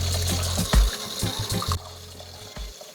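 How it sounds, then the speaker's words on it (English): Tap water runs steadily into a sink as salted fish are rinsed before frying, with soft splashing and a few louder thumps and clatters near the start before the flow quiets. "Now as we wash them, we're going to put them away to drain or dry"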